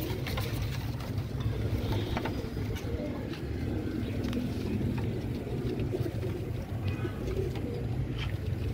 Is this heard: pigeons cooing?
yes